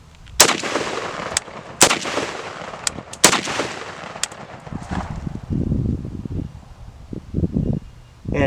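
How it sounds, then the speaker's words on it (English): Unsuppressed rifle gunshots from a Chinese MAK-90 AK-pattern rifle firing 30 caliber with no muzzle device, several sharp loud cracks spaced a second or so apart, each with a ringing outdoor tail, followed by quieter rustling and low handling noise. "What we're looking at right now is a Chinese Mac 90 minus a muzzle device entirely."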